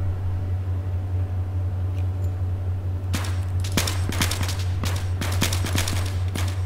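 Gunfire in Battlefield 3: after a few quiet seconds over a steady low hum, a rapid sequence of sharp shots and bursts breaks out, loud and close, with several distinct cracks in quick succession.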